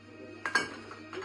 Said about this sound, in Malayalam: ഐസ് ക്യൂബ്സ് ഇട്ട് കൊടുക്കാം.